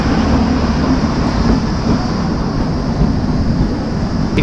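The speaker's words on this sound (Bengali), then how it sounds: "টয় ট্রেন কিন্তু ভালো স্পিড কিন্তু মেনটেন করে চলেছে" The Shivalik Deluxe Express toy train on the Kalka–Shimla line runs at steady speed, a loud continuous rumble of wheels and carriage noise heard from on board, with a faint rattle near the end.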